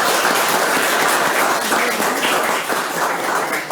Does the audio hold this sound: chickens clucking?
no